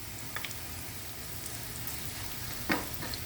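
Sliced onions frying in hot fat with a little sugar until brown and crisp for Kerala-style ghee rice, a steady low sizzle in the pan with one brief louder stir or clatter near the end, no voices.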